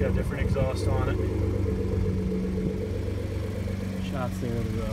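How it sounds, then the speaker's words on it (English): A 2011 Ford F-150 pickup fitted with an aftermarket exhaust idles nearby with a steady low rumble, while someone talks over it throughout. "Looks like it's got a different exhaust on it."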